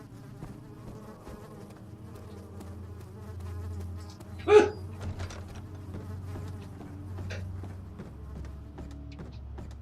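Flies buzz in the horror game Amnesia, a steady faint insect drone with wavering pitch running throughout, plus a brief louder thump near the middle.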